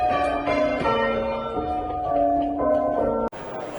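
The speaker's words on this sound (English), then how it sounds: "bells ring out and gun salutes across the UK and around the globe as the world pays tribute to Queen Elizabeth" Church bells ring in a steady, overlapping peal with rich sustained tones, then cut off abruptly near the end into a different background.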